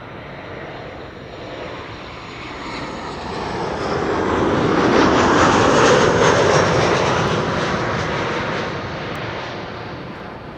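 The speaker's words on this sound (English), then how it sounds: "This is KLM flight 1930, arriving from Geneva, 737-800." A KLM Boeing 737-800 jet arriving from Geneva lands at Amsterdam Schiphol, its broad engine roar swelling to a loud peak as it passes near, then slowly fading, with no voices.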